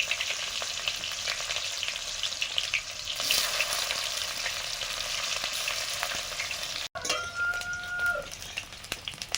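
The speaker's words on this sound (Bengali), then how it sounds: "পেঁয়াজটা ভাজা হয়ে এসছে" Chopped onion frying in mustard oil with dried chilli and cumin, a close, steady crackling sizzle with stirring scrapes, a short break, then more sizzle and clatter.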